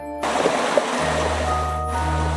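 A waterfall sound effect in a read-aloud adventure story: a steady, loud wash of rushing water with a low hum beneath, continuous throughout with no voice.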